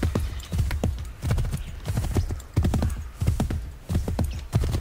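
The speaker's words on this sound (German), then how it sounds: "So schneller reiten als das geht leider nicht." Horse hooves gallop in Assassin's Creed 3, a fast, steady repeating clip-clop of hoofbeats in loud rhythmic bursts throughout, with no talk over them.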